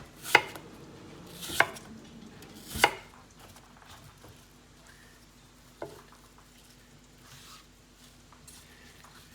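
A knife cuts a peeled apple into thin slices on a cutting board for apple cinnamon oatmeal, giving three sharp, close chops in a row, then a softer cut after a pause and a faint tap at the end.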